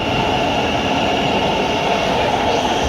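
A Thameslink Class 700 electric train at London St Pancras low-level platforms gives a steady, loud rumble and hum throughout, with no voices.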